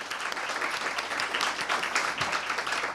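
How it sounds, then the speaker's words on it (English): A round of applause for the national winners of Samsung Solve for Tomorrow: close, dense, steady clapping from a room full of people, unbroken throughout. "One more round of applause."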